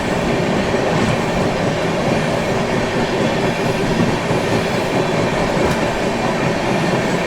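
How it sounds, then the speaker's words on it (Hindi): The Patna Tejas Rajdhani Express pulls into a platform with a steady, loud rumble of rolling carriages and a clickety-clack of wheels over rail joints, unbroken for several seconds and with no voices. "ये आ रही है पटना तेजस राजधानी एक्सप्रेस"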